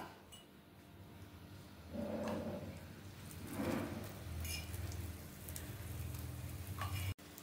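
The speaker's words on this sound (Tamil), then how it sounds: "ரெண்டு பக்கமும் ஃப்ரை பண்ணி எடுத்துக்கலாம்" Brinjal slices fry in hot oil with a soft rain-like crackle and sizzle, punctuated by a few clinks of a utensil, close and moderately quiet, cut off abruptly at the end.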